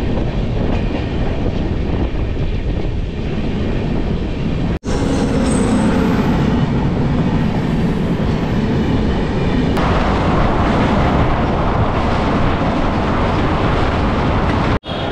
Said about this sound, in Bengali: মহিমা গোসাই সাঁতরাগাছি থেকে ছেড়ে দিল আমাদের ট্রেন